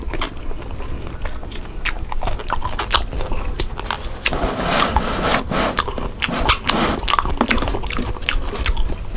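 Close, crunchy chewing of cockles, with repeated crisp bites and crackles in an uneven rhythm over a low background hum.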